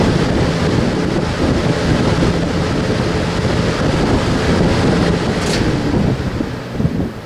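Two GE box fans, a W-22 and a W-25, running together on high speed, producing a loud, steady broadband whoosh of rushing air that stays constant throughout.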